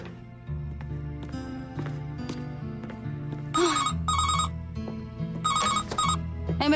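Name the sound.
telephone ringing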